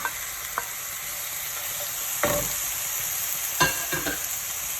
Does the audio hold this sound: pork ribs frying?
yes